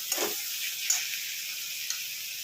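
Water goes into spices frying in oil in a pan for boal fish curry, producing a soft sizzle with a few sharp ticks and light clinks, faint and close with no talk.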